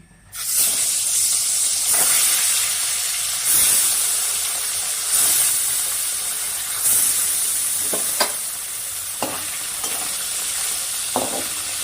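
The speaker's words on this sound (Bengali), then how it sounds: "এবার তেলটা আমার গরম হয়ে গেছে এবার মাছগুলো সব ভেজে নিব" Fish sizzles loudly in hot mustard oil in a wok, a dense steady frying hiss with occasional sharp spits and pops, close and continuous with no talk.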